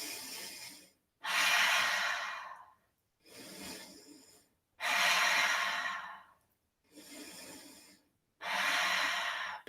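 Slow, deep breaths taken during a yoga session, five long airy inhales and exhales in steady rhythm, close and alone with no talk.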